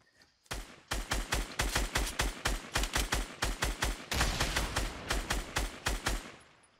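Rapid, evenly spaced bursts of weapon fire from Fortnite Battle Royale, called out as a grenade launcher, loud and close, about twenty sharp shots in a steady rhythm lasting several seconds with no talking.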